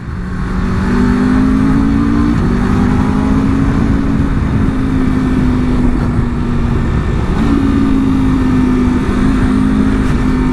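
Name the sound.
2026 Aprilia RSV4 superbike riding on bumpy roads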